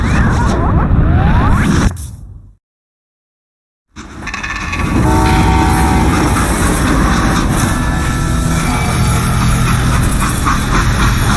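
Freight train in the Western game Call of Juarez: Gunslinger, a loud continuous rumble and clatter of wheels on rails close by, broken by a two-second silent gap before the rolling noise resumes.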